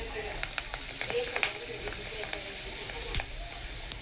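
Chips frying in hot oil in a home kitchen give a soft continuous hiss dotted with sharp crackling pops and clicks, close and moderate in level.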